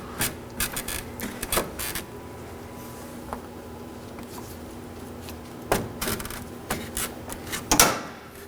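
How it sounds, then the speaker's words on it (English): Pulling up the front bumper cover on a 2013-2019 Nissan Sentra produces scattered sharp plastic clicks and snaps over a low, steady background hum, with a louder cluster of pops near the end. "look at the top end of your bumper and pull up."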